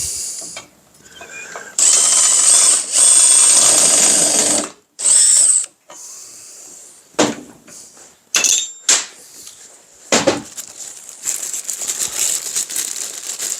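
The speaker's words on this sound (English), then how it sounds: "I'm putting it on the screw gun." Screw gun driving screws, heard as loud bursts of whirring and ratcheting mechanism noise separated by short pauses, with lighter clicks and handling rattles between the runs.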